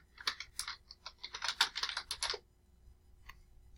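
Rapid keystrokes on a computer keyboard as a short title is typed into a spreadsheet dialog box, a close, crisp burst of clicks lasting about two seconds, then quiet with one stray tap.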